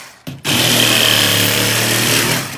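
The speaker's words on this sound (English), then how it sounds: "this is a hacksaw blade. You could probably go to something more coarse." Power tool fitted with a fine hacksaw blade cutting model scenery material for a large mammal display, a loud steady buzzing drone starting abruptly and running close throughout.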